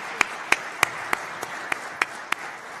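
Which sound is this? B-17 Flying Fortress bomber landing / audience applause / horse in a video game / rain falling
audience applause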